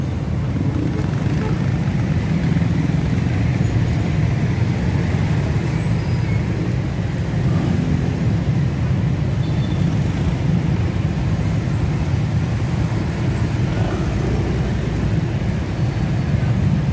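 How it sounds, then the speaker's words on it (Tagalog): Heavy evening road traffic with cars and motorcycles, a loud, continuous low rumble of idling and crawling engines close by, with occasional brief hisses like air brakes. "napaka-traffic na ngayong gabi."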